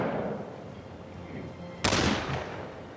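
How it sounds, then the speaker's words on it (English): Explosion in the video game The Lamplighters League, a sudden loud burst cutting in over a low rumbling battle backdrop, its sharp blast decaying into noise. "This explosion over here."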